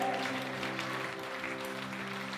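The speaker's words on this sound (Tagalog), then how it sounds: "palakpakan mo ba ang ating Panginoon, yung the best na palakpak?" A church congregation applauds during a worship service: steady, dense clapping that lasts the whole stretch, mixed with sustained musical tones from the band or organ.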